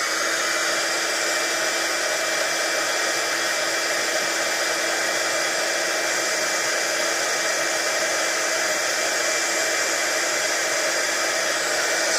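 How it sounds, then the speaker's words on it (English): A heat gun blows on wet paint on an art journal page, a loud, steady, unbroken whooshing drone that holds at an even level throughout, close to the mic, with no voices. "you're not gonna be able to hear very much because the heat gun is gonna be blowing"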